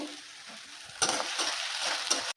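Potato and eggplant stir-fry with ginger-cumin paste, nigella seeds and green chilli, cooked for a hilsa fish curry. A close sizzle swells as the spatula stirs, with soft scrapes, then cuts off abruptly.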